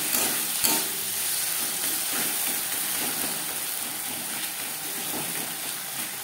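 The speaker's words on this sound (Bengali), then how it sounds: "পেঁয়াজ টমেটোর সাথে আদা ও কাঁচা লঙ্কা বাটা বেশ ভালো করে মিক্স করে দেবো।" Onion, tomato, ginger and green chili paste being stirred and sizzling in a hot pan, a steady frying hiss with scraping stir strokes, close and alone.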